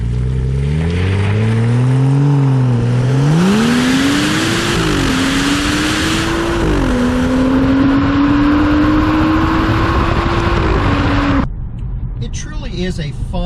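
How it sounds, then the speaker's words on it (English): A 2015 BMW 435i xDrive Coupe exhaust roars loudly and up close at full throttle, its pitch climbing steadily as the engine revs, then cutting off abruptly near the end. "if you jump into it and go full throttle, you'll definitely hear the roar come to life"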